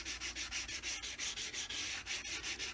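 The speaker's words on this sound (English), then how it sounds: "I'll get a nice fine sanding block and I'll go around the sides" A fine sanding block rubs back and forth along the edges of a new JR leather sole during a full sole and heel repair on Crockett and Jones shoes, giving a steady, rhythmic rasping of about a dozen close strokes with no talk.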